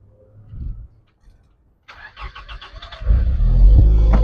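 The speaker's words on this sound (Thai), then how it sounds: "เดี๋ยวผมไปเปิดห้องเครื่องสตาร์ทเสียงเครื่องยนต์ให้ฟังนะครับ" A Toyota Wish 2.0Q Limited fitted with a swapped-in 2.4 engine cranks with a brief rattling whir, then catches and settles into a loud, steady running rumble.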